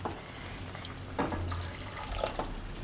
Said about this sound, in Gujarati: તો આ રીતે આપણે પાણી નાખીશ.